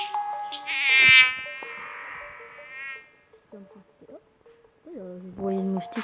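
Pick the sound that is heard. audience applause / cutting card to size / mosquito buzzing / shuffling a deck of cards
mosquito buzzing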